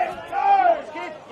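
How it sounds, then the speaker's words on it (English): Crowd noise rises at an NTFA Premier League senior men's Australian rules football match, a swelling roar from spectators in the grandstand and along the wing, loud and close, with a commentator's voice over it. "You can hear the crowd."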